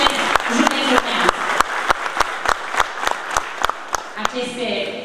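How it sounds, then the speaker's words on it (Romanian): Audience applause at a political party campaign event, a crowd clapping under sharp, regular rhythmic claps that pulse steadily through, with some voices and crowd murmur mixed in, fairly loud and close. "Aceste aplauze din partea dumneavoastră sunt sigură că îmi dă o forță"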